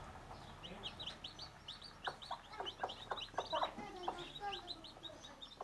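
A mother hen clucks softly among her day-old chicks, whose high peeping chirps come in quick bursts throughout, close and fairly quiet.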